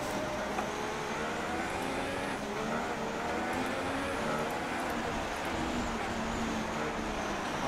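A Formula 1 race car engine drones on a wet track in F1 2016 video game, a steady broad roar with hissing spray and road noise throughout, no talk.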